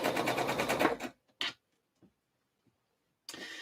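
A sewing machine stitches bias tape along the raw neckline edge of a slip dress, a fast rhythmic mechanical whir at close range that stops after about a second, then a short burst and another run starting near the end.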